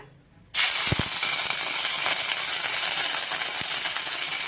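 Curry leaves drop into hot oil already popping with mustard seeds, setting off a sudden loud, steady sizzle and hiss that carries on close by, with a few faint crackles at the start.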